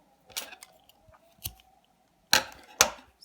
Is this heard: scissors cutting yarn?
yes